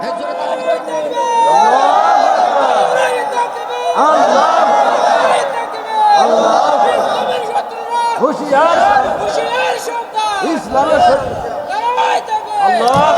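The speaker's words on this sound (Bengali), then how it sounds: "আপনারা এখানে এই যে তাকবীর দিচ্ছেন" A large crowd at a Bengali religious sermon (waz) shouts the takbir, Allahu Akbar, in loud, overlapping waves of massed voices that rise and fall for the whole stretch.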